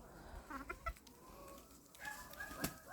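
Chickens cluck and squawk faintly in the distance in a vegetable garden, with a small rooster's call rising among the scattered bird noises over a low outdoor background.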